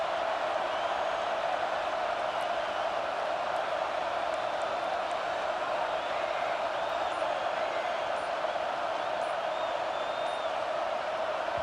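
Stadium crowd noise in the College Football 26 video game, a dense continuous roar of cheering fans holding at a steady loud level throughout, with no commentary heard.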